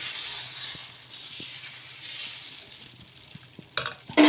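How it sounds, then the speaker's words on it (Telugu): Dosa batter spread with a ladle across a hot pan, giving a soft steady sizzle with faint scraping strokes and a few light clicks, ending in a louder clatter of utensil against the pan. "ఇలా గరిట పిండి అనేది వేసుకొని ఈ విధంగా స్ప్రెడ్ చేసేసుకోవడమే దోశని"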